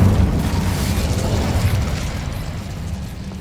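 The Incendio fire spell from Hogwarts Legacy erupts in a loud, rumbling blast that roars at full strength and then slowly tapers off, with no voices over it.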